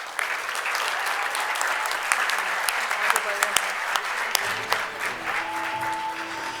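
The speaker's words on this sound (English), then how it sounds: "Let's all give ourselves a big round of applause." Graduating students and guests clap at a school graduation ceremony in Kuwait, a dense roomful of applause with sharper individual claps popping out and a few voices mixed in.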